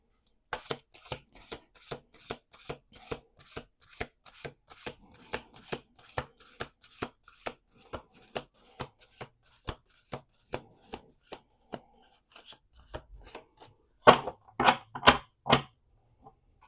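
Tarot cards being shuffled by hand, a long run of crisp, evenly spaced riffling snaps close up, ending in a few louder, denser bursts.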